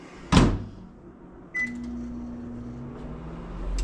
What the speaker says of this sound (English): I'll end up putting this in the microwave for about 30 seconds.